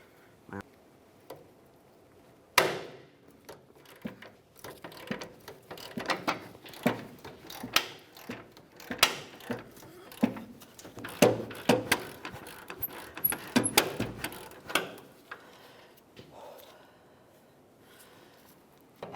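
Wrenches work on the front upper control arm bolts of a 2004-2015 Nissan Titan, with an irregular run of close metallic ratcheting clicks, clanks and taps that grow busier midway, alone without talk.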